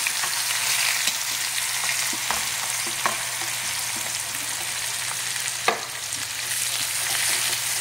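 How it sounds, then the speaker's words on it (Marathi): Chopped onions with a pinch of asafoetida frying in oil, a steady sizzle with occasional stirring clicks and one sharper tap, no voices. "कांदे मिनिटभर छान तेलात परतून घेऊया सॉफ्ट होईपर्यंत।"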